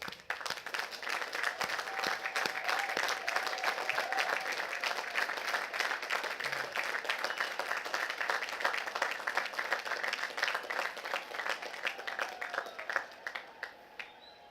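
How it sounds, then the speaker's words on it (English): At a West Point graduation ceremony, the graduating class applauds their families and friends in a long, sustained round of clapping from a large crowd, heard at a distance and steady until it thins out at the close. "join me for a huge round of applause for your family and your friends here today"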